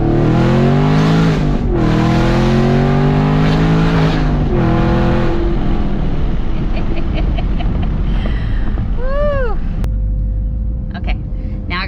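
A loud supercharged 2019 Camaro SS 1LE V8 with long-tube headers revs hard several times, rising and falling with a deep throaty exhaust roar, then settles toward a rumbling idle with some faint chirps.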